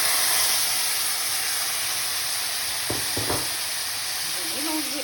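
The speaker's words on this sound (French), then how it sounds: "Là, je vais rajouter la viande dessus. Je vais mélanger un peu." Beef added to softened onions in a frying pan sizzles steadily, with a couple of brief scraping stirs near the middle and a faint clink toward the end; no one speaks.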